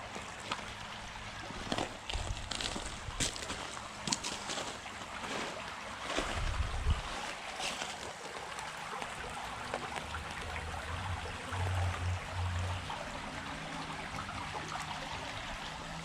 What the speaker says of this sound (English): we're getting into the real creek zone now.